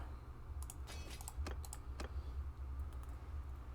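Quick bursts of keystrokes clatter on a computer keyboard during a chat, close and fairly soft over a low steady background hum.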